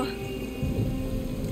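Steady rain falls in Stranger of Paradise Final Fantasy Origin, a dense hiss with low rumbling beneath, continuous across the whole short moment with no voice over it.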